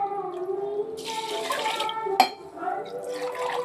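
Water is poured from a tumbler over washed rice in a pressure cooker for lemon rice, a steady close splashing fill with one sharp metallic clink partway through.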